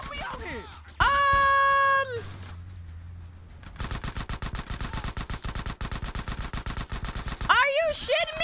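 Gunfire in GTA: San Andreas Definitive Edition: a long rapid burst of shots runs for several seconds after a sustained tone, with a voice exclaiming briefly at the start and end.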